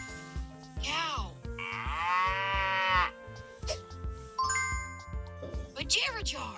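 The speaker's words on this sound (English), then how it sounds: "Cow" A cartoon cow moos in a drawn-out, wavering call amid bouncy children's nursery-rhyme music with bells and chimes, followed by playful sound effects.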